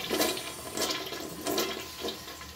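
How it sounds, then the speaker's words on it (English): A hotel bathroom toilet flushes in bursts of rushing water, fairly close and moderately loud, surging and fading over a few seconds. "There's the toilet flushing through for all you toilet flushing fans."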